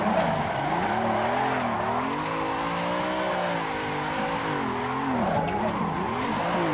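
Car tires skidding and squealing as a car drifts in a sim racing game, with a continuous engine drone and wavering squeal running loud and steady throughout.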